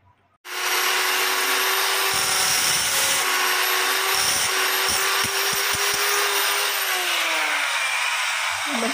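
A power drill bores into a house wall, the motor whining loud and close with a steady tone, briefly dipping and stuttering in short bursts before running on.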